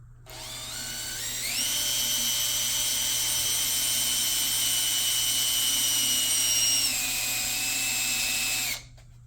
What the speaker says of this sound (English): And we'll drill that hole.